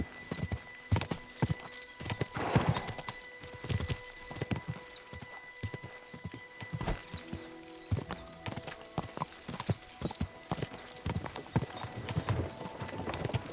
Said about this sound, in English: Weird that there is actually just a random horse standing around here.